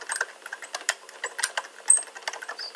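Quiet, irregular clicking of keys on a computer keyboard, close by, in quick uneven bursts with no talking.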